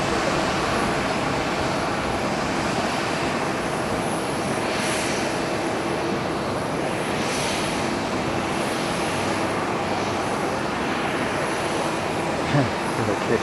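Jet airliner engine noise at Haneda Airport, a steady, loud, broadband roar that fills the whole stretch without a break, with no voices standing out.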